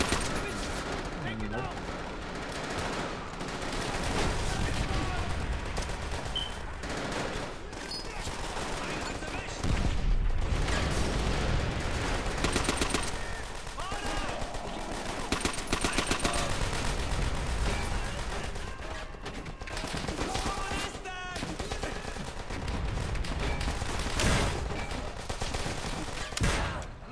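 Sustained rifle and machine-gun fire from the Call of Duty: World at War 'Ring of Steel' battle, dense rapid bursts and single shots crackling throughout with heavy background combat and occasional voices.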